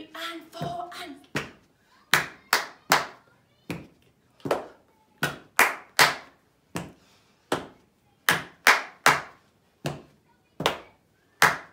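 Children's body percussion plays repeated sharp claps and slaps in a steady pattern, crisp and close, in groups separated by short pauses, with quieter talking at the start.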